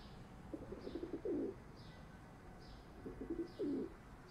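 Pigeons in the video game Crowns and Pawns: Kingdom of Deceit give two clear cooing phrases a couple of seconds apart, soft and close over a quiet ambient backdrop.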